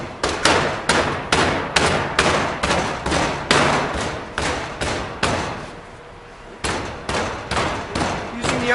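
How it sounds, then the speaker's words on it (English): A hand packer rams foundry sand tight into a casting flask around a pattern, giving a close, loud series of regular heavy thumps, about two per second, with one brief pause midway. "he's using this packer in order to get the sand tight."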